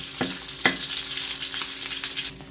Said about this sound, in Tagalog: Ay, magigisa na po tayo ng bawang sibuyas.